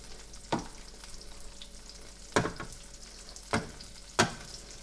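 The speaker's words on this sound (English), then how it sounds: "Mix it in there. Stir him up a little bit." Seasoned cod with an Italian herb blend sizzles steadily in a hot pan, broken by four sharp spatula scrapes as it is stirred.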